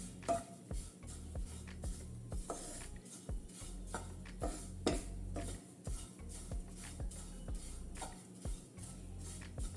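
A utensil scrapes and clinks steadily against a metal pan while oats roast dry, repeated stirring strokes with regular taps, close and clear, no voices.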